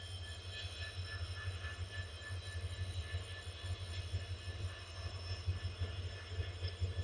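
Train passing at night, a steady distant rumble of rolling wheels with faint metallic squeal tones, quiet and continuous with no talk.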